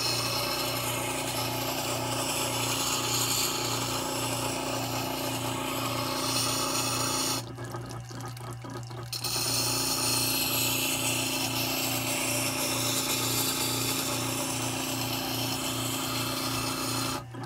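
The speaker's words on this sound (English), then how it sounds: "I'll fire up the sharpener here." A powered knife sharpener grinds a knife blade with a steady, loud, continuous whirring hum, broken by a short quieter dip partway through before the grinding resumes at the same level.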